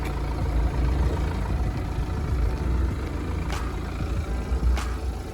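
A steady low BMW car engine rumble idles continuously, close by, with a couple of faint sharp ticks partway through.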